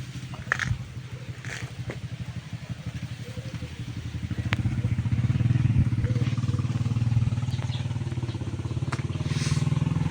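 A 2022 Suzuki Burgman 125cc scooter engine runs close by with a steady low, pulsing throb that grows a little louder partway through, while faint voices murmur in the background.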